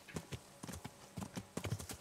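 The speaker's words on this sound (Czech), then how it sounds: "To je dostihovej kůň, to je parádička." Racehorse hooves clip-clopping in a steady series of sharp, close strikes, about a dozen hits in quick rhythm, alone with no talk.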